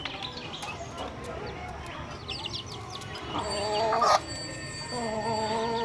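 Chickens squabbling on a farm, a mother hen among them, with a steady stream of clucks and squawks, a sharper burst of agitated calls near the end, and birds chirping in the background.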